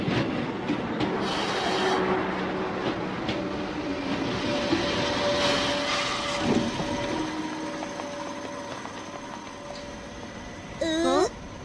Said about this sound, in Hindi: यात्री कृपया ध्यान दें, ट्रेन प्लेटफॉर्म नंबर 1 पर आ रही है